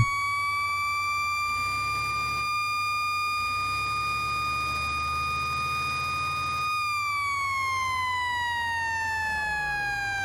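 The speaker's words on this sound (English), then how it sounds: "I guess we need some lights and maybe a siren too" An electronic emergency siren in a video game holds a steady wailing tone, then sweeps downward near the end, loud and continuous over a low rumbling engine hum.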